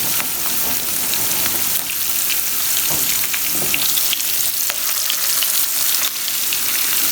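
Spices sizzle and crackle in hot oil for a tadka for Lahori cholay, a steady, close, bright frying hiss with small pops, continuous and alone without speech.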